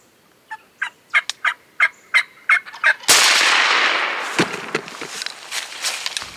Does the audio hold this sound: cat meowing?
no